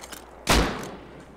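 A single sharp gunshot in the survival video game Rust, a loud close crack with a short decaying tail amid quiet background.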